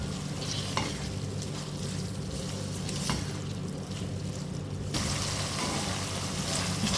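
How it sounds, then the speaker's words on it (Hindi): Minced meat sizzles and fries in a pan with garlic ginger paste for aloo matar keema, a steady close crackle with occasional stirring scrapes and no talking. "भूनेंगे इसको।"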